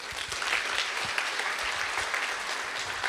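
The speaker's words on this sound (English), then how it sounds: "Please welcome President Hong with a round of applause" Sustained applause from a large conference audience welcoming a keynote speaker at a Korean university's international conference, a dense, steady wash of many hands clapping at even loudness throughout.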